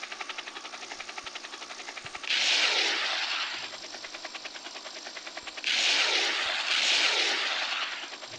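Rockets are fired at a helicopter in a naval-combat video game, two loud whooshing bursts that rise over a constant droning aircraft engine, with no talking.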